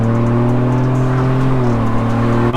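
Ford Bronco fitted with a Corsa exhaust and cold air intake, accelerating at highway speed and heard from inside the cabin, with a deep steady droning engine note that rises slightly and holds throughout.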